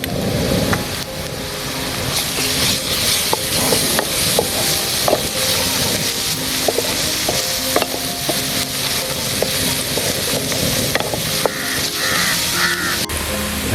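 Garlic paste sizzling and frying in a hot pan, a loud, continuous crackling hiss with scattered pops and occasional stirring scrapes, and no one talking.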